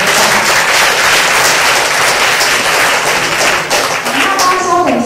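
An audience at a youth working holiday information session in Taichung applauds. The clapping is loud and sustained, fills the room throughout and fades slightly near the end.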